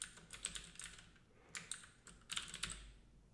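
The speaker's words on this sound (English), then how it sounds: "as soon as I type here" Keys clack on a computer keyboard in short bursts, light quick strokes grouped into a few clusters with pauses between, fairly quiet and close.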